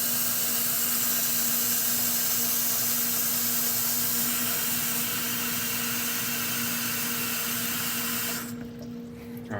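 Water running steadily into the reservoir of a Keurig K-Duo? no—Keurig Hot 2.0 K525 Plus coffee maker from a tap, a constant close rushing flow that stops abruptly near the end.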